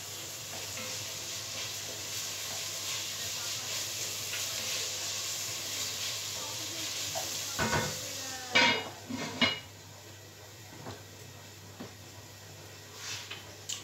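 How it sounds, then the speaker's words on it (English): Chicken pieces hit hot oil in a frying pan for a chicken and chorizo stew, a steady sizzle throughout with a few clattering pan and utensil knocks toward the end, close and moderately loud with no talking. "in another frying pan, get that nice and hot, a little bit of oil in there, then we'll seal off the chicken in those"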